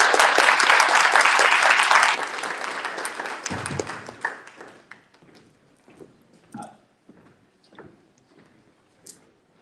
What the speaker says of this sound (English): can we give Dr. Narayan a huge round of applause?